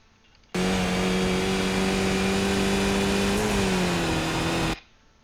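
A Skip Barber race car in the iRacing sim at Zandvoort drones at high revs in a steady buzzing tone that dips slightly in pitch partway through, starting and stopping abruptly, no talking.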